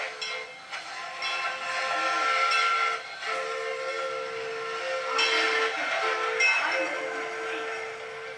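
Steady sounds of a steam train near Lahaina, Hawaii, with a clanging bell and sustained whistle-like tone, hissing, and rhythmic clickety-clack of wheels over rails, moderately loud and continuous.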